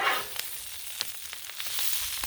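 Collard greens fry in bacon fat on a Blackstone griddle, making a steady, close hiss of sizzling with light scraping ticks from tossing and mixing.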